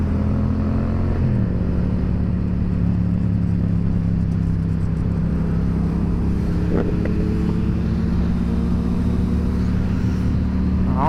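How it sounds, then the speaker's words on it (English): Steady low traffic rumble of cars and motorcycles crowding a car meet, with a bike engine droning close by and passing vehicles swelling briefly, heard from a riding FZ07 motorcycle with wind noise. "Bro, there's cars and bikes everywhere."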